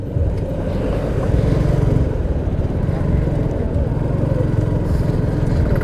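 A Suzuki Gixxer carburetor motorcycle engine runs loud and close throughout, steady and continuous with the throttle repeatedly twisted and released, with no clear gaps.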